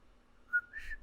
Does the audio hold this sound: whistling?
yes